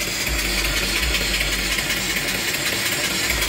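A mill steam engine runs slowly at about 100 RPM, giving a soft, steady mechanical hum with faint low thumps and a hiss over several seconds.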